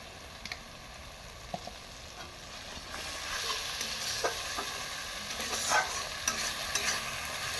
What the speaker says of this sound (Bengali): মশলাটা ভাজা হয়ে গেছে, দেখুন তেল ছেড়ে গেছে মশলা থেকে আর দানা দানা হয়ে গেছে।